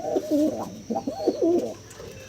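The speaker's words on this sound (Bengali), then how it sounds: "আর এটা হচ্ছে বাজির পায়রা" A high-flying breed of pigeon coos close by in a few soft, rolling calls, heard alone without talk.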